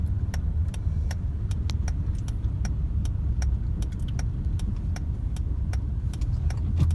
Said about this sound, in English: I have just put the second gear and moving it without any acceleration.